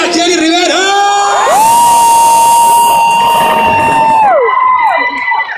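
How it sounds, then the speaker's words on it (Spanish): Concert crowd shouting and cheering: a loud, sustained roar from a large audience, with high rising and falling whoops carrying above it for several seconds before the noise fades. "yo quiero oír un grito duro"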